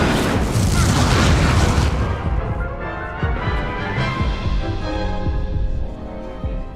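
An Incendio fire spell is cast in the video game Hogwarts Legacy, a loud, dense whooshing burst of flame that booms and then trails off into a rumbling decay.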